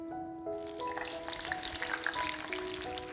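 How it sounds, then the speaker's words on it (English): Onion paste sizzles steadily in hot oil in a wok on medium heat, frying with whole spices for a mint chicken gravy, a dense continuous crackle that stays close and even, with no voices. "To this we'll add some onion paste."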